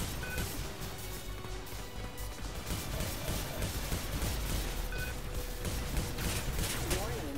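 Spacecraft weapons fire in the space-combat video game Star Conflict, a dense, continuous rattle of shots and blasts mixed with engine hum, with someone talking over it throughout.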